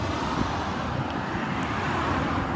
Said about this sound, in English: It's a very busy road whenever I try to get back home.